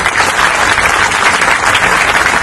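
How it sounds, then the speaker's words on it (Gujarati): A large crowd applauds police personnel after a peaceful Ganesh immersion in Surat, a loud, dense, sustained wash of clapping from many hands with no talking over it. "એમના માટે આપણે સૌ લોકો તાળીઓ વગાડશું"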